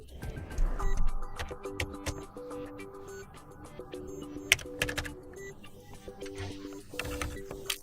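Someone types a code on a computer keyboard while setting up an HONOR 400 Lite phone, giving steady, close key clicks in an uneven rhythm with soft background noise.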